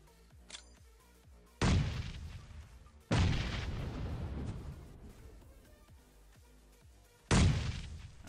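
Three heavy booms in Battlegrounds Mobile, grenade blasts from a mobile battle-royale game, each hitting suddenly and loud, then rumbling and decaying over a second or more, spaced a few seconds apart with no talking.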